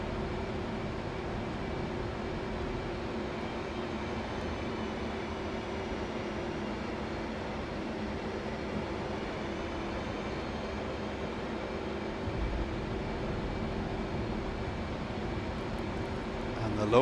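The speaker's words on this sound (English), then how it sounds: "we get the afterburners on round there" A USAF F-15E Strike Eagle in the DCS flight game flies low over the Caucasus with afterburners lit, a steady, loud broadband jet roar that holds evenly throughout and swells slightly near the end.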